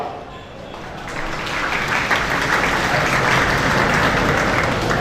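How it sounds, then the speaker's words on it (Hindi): Audience applause at a foundation's annual award function, building from a quieter start into sustained, dense clapping from a crowd that stays loud for several seconds. "Can I have a big round of applause for none other than Miss Bertha Tontia?"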